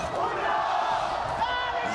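Esports arena crowd at VCT Masters Santiago for a Valorant lower-bracket elimination match, a broad sustained roar of cheering and shouts beneath a commentator's voice.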